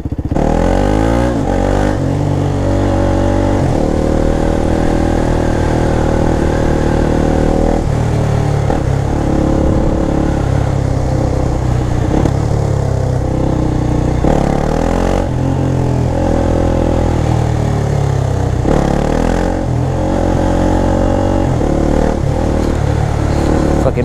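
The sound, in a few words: KTM Duke 390 motorcycle accelerating at night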